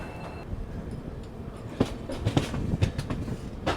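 A passenger train rolls along rails in India at sunrise on its third day of travel, with a steady rumble and a series of clickety-clack wheel knocks heard from inside the carriage.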